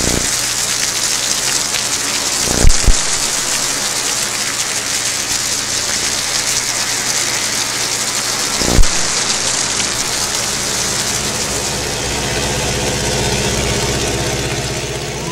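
Heavy rain pours down in a steady, loud hiss at an airfield where cloth-and-wood vintage biplanes stand, with a couple of brief louder bursts mixed into the constant drumming.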